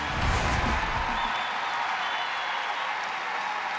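A stadium crowd of over 13,000 at the 2015 NWSL Championship soccer final applauds after the match, a dense roar of clapping and cheering that starts loud and settles into a steady wash of sustained applause.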